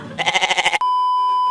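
A goat-like bleat quavers in a rapid wavering burst of about seven pulses, then cuts abruptly into a steady electronic beep tone, loud and close as a comic sound effect.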